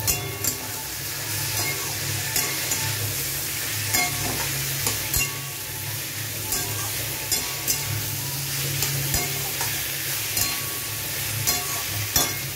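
Boiled jackfruit and potatoes frying with garam masala in a pan for a curry: a continuous sizzle broken by repeated scraping stirs and small knocks of a spoon, with no voices.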